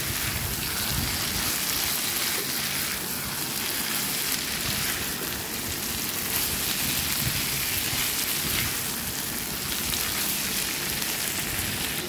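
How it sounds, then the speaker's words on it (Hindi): Chopped cabbage with onion frying in a pan for vegetable chow mein, a steady dense hiss and crackle of sizzling oil running continuously and fairly loud throughout. "बंद गोभी इसमें ऐड कर ली है, को भी ज़रा फ्राई कर लेंगे।"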